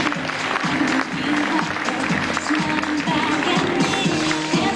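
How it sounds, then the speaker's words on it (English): Audience applause at a 1998 school fashion show in Bandon, County Cork, Ireland, a steady sustained round of clapping from a crowd, with rhythmic music and a voice running underneath. "Let's give a round of applause, folks."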